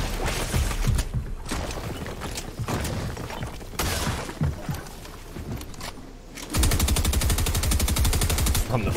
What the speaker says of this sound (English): Shoot your gun now.